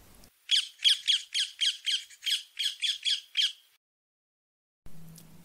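A ring-necked parakeet gives a rapid series of about a dozen shrill, piercing squawks close by, then falls silent.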